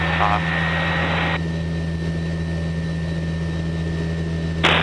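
A light aircraft engine drones steadily in flight, a constant low hum with a faint tonal whine, while radio chatter and cockpit speech briefly break through.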